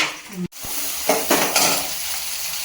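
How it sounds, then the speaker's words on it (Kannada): Garlic and ginger frying in hot oil in a pan, a steady close sizzle with a few soft utensil scrapes and stirs over it. "ಆಮೇಲೆ ಶುಂಠಿ ಹಾಕ್ಬೇಕು. ಅದು ಸ್ವಲ್ಪ ಫ್ರೈ ಆಗಲಿ."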